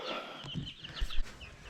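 Young chicks peep and cheep in soft, scattered calls while being carried to a chicken coop, with bumps and handling noises underneath.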